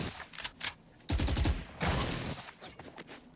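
Automatic weapon fire in Valorant, held on full auto: tight rapid bursts of gunshots, loud and close, in two or three sustained strings with short gaps between them.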